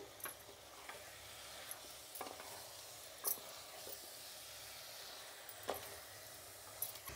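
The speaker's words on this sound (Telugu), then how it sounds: "ఇప్పుడు మనం చికెన్ వేసుకొని బాగా వేయించుకోవాలి." Chicken pieces fry on low heat with turmeric and rock salt, a faint steady sizzle broken by a few sharp spatula clinks and stirring scrapes.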